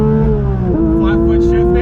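A Porsche GT3 engine with a 9,000 RPM redline, loud and close inside the car, droning with a steady tone that dips briefly at a gear change, with talk over it.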